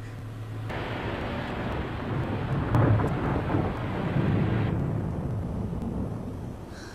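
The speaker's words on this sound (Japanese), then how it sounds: "嵐が近づいてるわね、急いで。" Thunder from an approaching storm rumbles low and steady, swelling into a louder roll midway before easing, with a broad noisy wash like rain and wind beneath it throughout.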